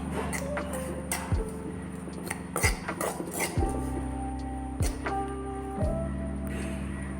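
A spoon stirs coffee powder and ground spices together in a bowl, clinking and scraping against its sides in repeated close, ringing taps, with no voices.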